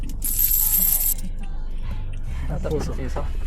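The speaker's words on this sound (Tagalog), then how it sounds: "Grabe, puro barya." A handful of coins jingles and clinks as it is handled, likely loose change passed over during a ride-hailing car trip, heard close up with voices talking over it.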